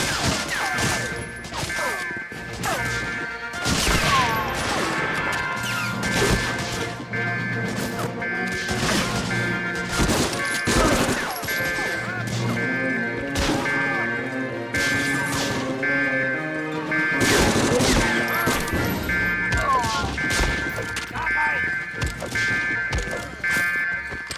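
Gunfire in the PS2 shooter Medal of Honor: Frontline, with a string of sharp, cracking shots and impacts spread across a dense, continuous wash of in-game noise.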